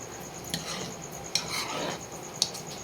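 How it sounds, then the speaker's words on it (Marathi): Butter being stirred continuously with a spoon in a pan while it cooks down into homemade ghee, a steady soft bubbling hiss broken by three sharp metallic clinks of the spoon against the vessel, close and fairly quiet, with no talking. "लोणी सारखं सतत असं चमच्याने ढवलं ढवळत राहायचं आहे"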